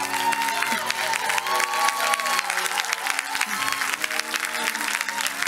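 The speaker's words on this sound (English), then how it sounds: "let's stand and give them a warm hand of applause." Audience at a business school graduation ceremony applauding on their feet, a steady dense wash of clapping at moderate loudness with crowd murmur and a faint tonal hum underneath.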